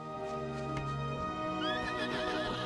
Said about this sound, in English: Emit a loud whinnying noise, frightening any Northridge spiders.